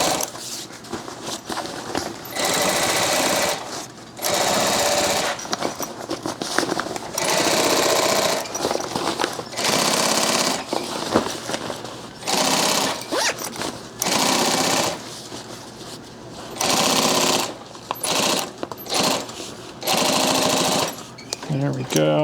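A sewing machine fitted with a binding attachment sews binding onto a backpack, running in repeated loud bursts of rapid stitching separated by short pauses, with a person's voice talking over it.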